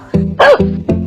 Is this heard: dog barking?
yes